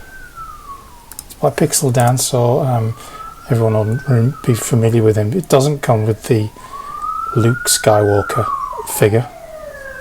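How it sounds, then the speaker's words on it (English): A wailing siren rises and falls in the background, steady under someone talking close up throughout. "Excuse the sirens outside"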